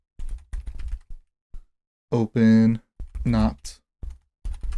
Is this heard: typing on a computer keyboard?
yes